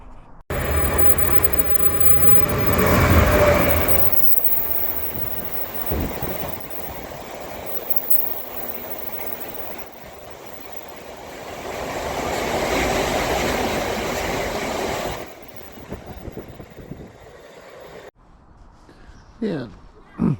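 A train at Stamford railway station rumbles past nearby, swelling loud around the start and again mid-clip before fading into quieter platform ambience near the end.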